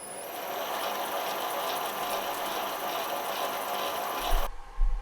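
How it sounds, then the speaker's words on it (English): Metal lathe freshly converted to a VFD-driven motor running steadily with a mechanical whir and light gear or belt chatter and a faint high whine, then cutting off abruptly into a few knocks. "I technically now have a running lathe again"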